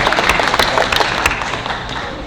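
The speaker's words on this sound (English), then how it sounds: "Let's give a big applause." Applause at an urban youth meeting in Surabaya, a loud, close burst of many hands clapping with distinct sharp claps at the start, thinning out toward the end.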